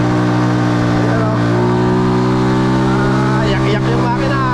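A car engine labors up a steep uphill road, a steady low drone with strong harmonic hum that holds for several seconds, with a voice speaking over it.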